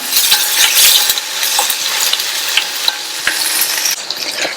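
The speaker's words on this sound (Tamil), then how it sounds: "இந்த வெங்காயம் லைட்டா வதங்கட்டும்" Finely chopped onions fry with curry leaves and dried red chili in hot oil, giving a loud, close, steady sizzle with occasional soft spoon clinks against the pan.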